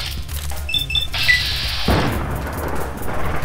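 Pistol gunshots in the video game Fallout: New Vegas boom loudly a couple of times. Each one has a sharp, heavy blast and a rumbling tail, after some faint tonal game sounds.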